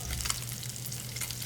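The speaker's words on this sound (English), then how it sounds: "Let it sit and let it fry in order to get the skin nice and crispy" A fish fillet fries skin-side down in a frying pan, giving a steady, close, continuous sizzle and crackle that holds level throughout without pause.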